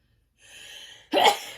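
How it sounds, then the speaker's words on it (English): A single sneeze: a breathy intake builds for a moment, then bursts into a sharp, loud expulsion close to the microphone. "I'm going to sneeze, I'm sorry."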